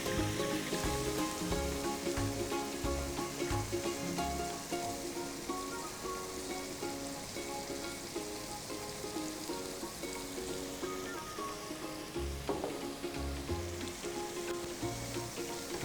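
Egg frying in a hot wok while making stir-fried glass noodles with soy sauce and ground pork, a continuous dense sizzle like rain on a surface, steady and close with no talk.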